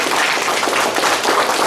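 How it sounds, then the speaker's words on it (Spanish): A church audience gives strong applause for the participants of a Word of God Sunday presentation. It is a steady, dense wash of many hands clapping at once, sustained and fairly loud throughout. "un fuerte aplauso para nuestros participantes"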